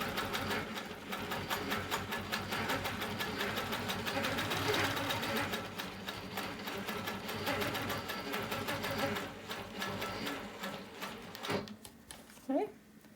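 A sewing machine stitching a wholecloth quilt along a ruler, a rapid, steady mechanical needle chatter running continuously before slowing and stopping near the end, with a few clicks and handling sounds.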